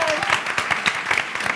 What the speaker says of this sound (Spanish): ¡Otro aplauso para el pueblo de Murcia!